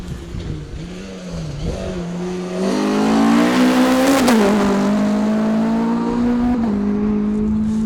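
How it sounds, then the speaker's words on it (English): A 2-litre Ford Escort RS rally car drives through a stage, its engine growling close and loud as it climbs through the revs, holds a strong high note and shifts gear, with no talk. "our next visitors should be Anthony Allery and Simon Dockeray with their 2-litre Escort RS."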